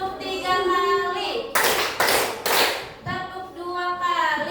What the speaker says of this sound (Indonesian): Coba tepuk 3 kali.